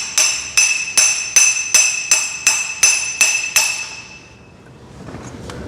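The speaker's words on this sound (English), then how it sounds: "I definitely got to go to a bigger hammer because it has a tighter fit at the base." Eight evenly spaced metallic hammer taps with a ringing clink drive a bearing driver onto a tight-fitting base during engine cam timing work, close and fairly loud, fading into quiet room noise.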